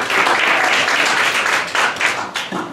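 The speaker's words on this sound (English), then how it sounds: "So let's, round of applause for all of you." Loud, close applause from a synthetic-biology club meeting celebrating its first year: dense, sustained clapping from a roomful of members that swells and eases slightly before tapering near the end.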